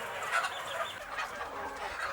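Chickens cluck softly on a charcoal-floored chicken farm in Toba Samosir, Indonesia, a faint, steady murmur of the flock with no talking.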